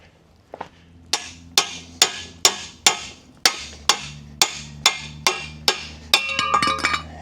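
A hammer strikes metal about a dozen times in a steady rhythm, each blow sharp and ringing, close by, ending in a flurry of clinks.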